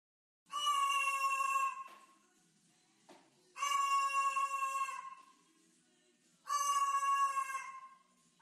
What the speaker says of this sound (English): she's spontaneously discovered that she can alter the sounds that she makes by using a cup as an external resonator